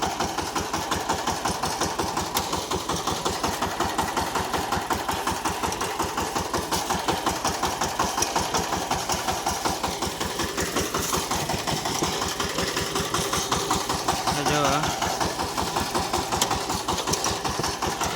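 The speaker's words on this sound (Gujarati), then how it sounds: "જો એટલું ચાર પર પણ આપણું ટ્રેક્ટર કેવું જાય." A VST Shakti tractor engine chugs steadily in fourth gear while preparing a field for rice sowing, a close, even, rapid pulsing drone that runs unbroken throughout with no talking.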